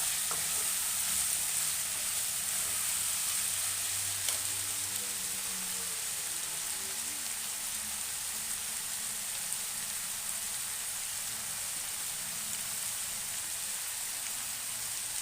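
Chopped tomatoes frying in a pan for a Bombay sagu side dish, a steady close sizzle with faint stirring scrapes, continuous and even with no talk.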